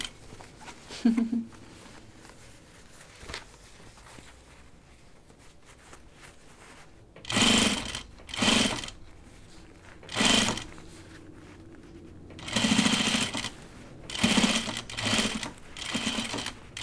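A sewing machine stitches a seam on a Grainline Portside Dopp Kit, running in several short close bursts after a quieter stretch of handling noise, with a voice speaking briefly.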